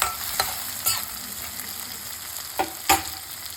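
Vegetables for a paneer sabzi sauté in a pan with a soft, steady sizzle. Several sharp metallic spatula scrapes and knocks break through at irregular intervals, close by, with no talking.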